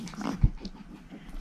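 Pomeranian puppy gives a short, low growl, a brief close rumble followed by soft breathy sounds, with no talking over it.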